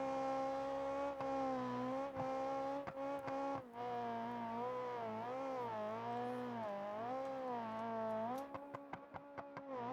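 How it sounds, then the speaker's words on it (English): A small, high-pitched two-wheel-drive race engine at high RPM in BeamNG.drive desert baja racing, a strong whining tone that rises and falls steadily through the revs, ending in a rapid crackling stutter. "you can hear that very high-pitched, smaller engine, high RPM,"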